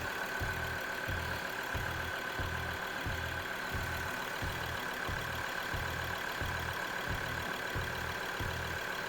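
A Ford Ranger 3.2 diesel engine with an EGR temperature sensor fault, warning light and power loss idles with a steady low throbbing pulse under a constant mechanical hum, close by and unbroken, without speech.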